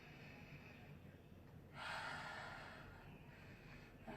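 A single slow, audible breath is drawn and released during a vinyasa flow yoga session. It is soft and near, with quiet stillness before and after.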